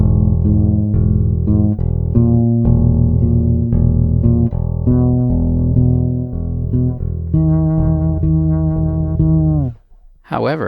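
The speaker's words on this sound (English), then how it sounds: "touching it or playing it lightly can yield a pretty clean sound like this" A Pedulla Pentabuzz fretless-style bass guitar played lightly with a clean tone, a steady run of close, sustained low notes for about ten seconds before stopping.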